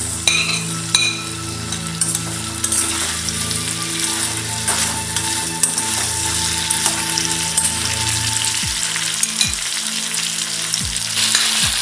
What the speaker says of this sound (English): Now I'm going to add these drumsticks.